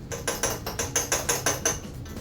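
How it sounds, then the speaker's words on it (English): A fork beats ingredients for keto coconut bread in a bowl with about ten quick, regular clinks and scrapes, each one sharp and close. No one speaks. "Fork or a teeny whisk are the tool that you want for this. And just mix it up."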